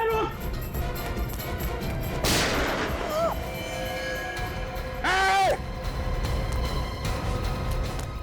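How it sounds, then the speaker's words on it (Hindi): A few sharp gunshot-like bangs crack out amid a noisy, busy scene, with voices and a rising siren-like wail around them. "बच्ची पे गोली चलाता है।"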